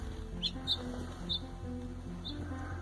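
A sparrow frozen to a pipe gives a few faint, short chirps, four or so spaced irregularly over a low background hum and rumble.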